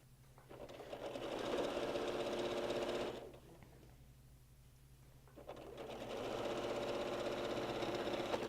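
A Janome 8900 sewing machine runs in two steady bursts of rapid stitching, about three seconds each, separated by a brief pause.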